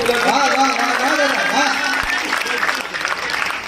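Audience applause at a Hindi poetry gathering for a library centenary, a sustained wash of many hands clapping under a speaking voice, steady and fairly loud throughout.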